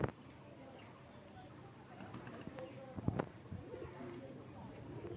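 Khaki and red Gorra pigeons coo softly in a few repeated low calls, with brief wing flutters and faint background noise between them.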